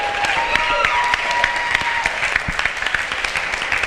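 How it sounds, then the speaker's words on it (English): Audience applause at a talk show, a dense steady wash of clapping lasting the whole few seconds with scattered sharper claps and a faint voice or cheer over it. "Give her a round of applause."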